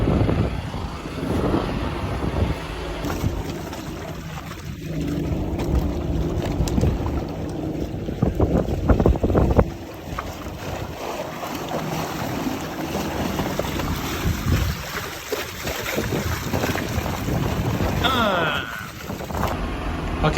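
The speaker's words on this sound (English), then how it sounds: "We idled the motors back just a little bit." Boat motors run at a low idle across choppy, windy water, a steady broadband rumble with splashing and wind noise throughout, loud and close, dipping briefly midway before resuming.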